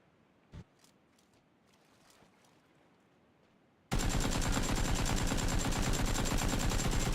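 In PUBG, a full clip from an AK rifle is fired into a boat. After a few soft taps, a sudden, loud, sustained burst of rapid automatic gunfire runs to the end.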